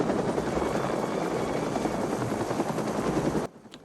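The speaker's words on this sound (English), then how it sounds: "these are real helicopters landing in and out of frame" Real helicopters landing in a 1985 action film, a loud, steady rotor roar that fills the scene continuously before cutting off abruptly near the end.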